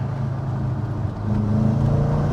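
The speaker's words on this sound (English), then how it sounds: "Wide open throttle." Audi RS4 engine held at wide open throttle, a steady loud low drone that swells and grows fuller partway through, with a slight stutter in the run.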